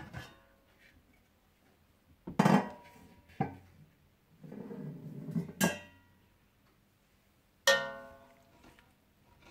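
Utensils and a pot scrape and knock against a serving dish as whole chicken musallam is lifted out, several sharp clinks and thuds separated by quiet gaps.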